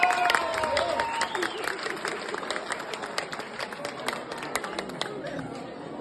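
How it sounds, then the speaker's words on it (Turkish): Guests at a Turkish engagement ceremony give applause for two families, a moderate wash of scattered clapping under steady crowd chatter and voices. "Altıntaş ve Karakurt ailesi için şöyle güçlü bir alkış istiyorum lütfen"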